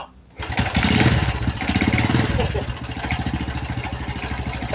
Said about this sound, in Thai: ฟังเสียงเครื่องตอนสตาร์ทเท้า